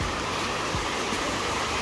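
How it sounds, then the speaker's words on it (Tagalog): Steady broadband rush of flowing water, constant and close, with no voices or breaks. "Parang lumakas yung tubig sa ilog"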